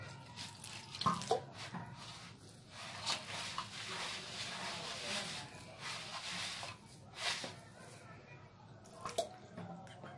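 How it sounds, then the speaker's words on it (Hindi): Water is poured and splashes into a bowl of paratha dough mixed with milk, sugar and salt, a faint, intermittent trickling with soft drips and handling noises. "अब हमने इसके अंदर पानी शामिल करना है।"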